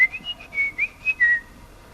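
A man whistles a short melody in imitation of a bird, the opening of a song, a clear solo tune of about six quick notes, close and alone.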